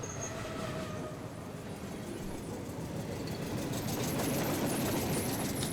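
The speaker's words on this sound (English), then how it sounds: "Turn that train down." Loud recorded train ambience track with steady rumbling rail noise and wheel squeal, playing continuously throughout and swelling slightly toward the end, with no voices over it.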